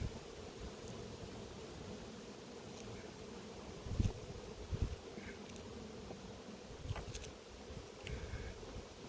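A low, continuous buzz of honey bees at an apiary hive holds steady and faint, broken by a few brief knocks and rustles.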